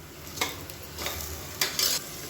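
Onion and ginger-garlic paste sautéing for a chicken curry, a steady close sizzle broken by a few sharp spoon scrapes against the pan, no voices.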